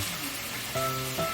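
Meat, chicken for a curry, frying in a pan gives a steady, soft sizzle across the whole moment. Faint tonal background sounds drift over the hiss, and nobody speaks.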